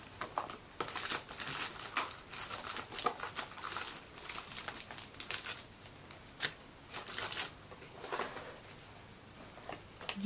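Sheets of paper for gift wrapping crinkle and crumple near and loud, in irregular rustling bursts with no talk, fading briefly near the end.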